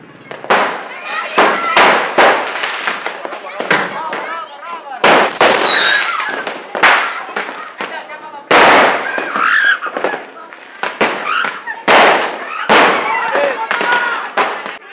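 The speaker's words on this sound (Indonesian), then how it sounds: "Perang petasan ini tiap tahun dilakukan para pemuda dalam rangka menyambut pergantian tahun." Firecrackers explode in rapid, irregular bursts during a New Year's street firecracker war among youths in Makassar, South Sulawesi, sharp loud bangs and crackles one after another, with people shouting in between.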